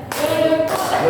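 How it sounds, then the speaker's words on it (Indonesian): A group claps hands together during a community outreach session with lecturers in Pasuruan: a brief burst of close, loud clapping, with some voices faintly mixed in. "Ayo deh, tepuk tangan."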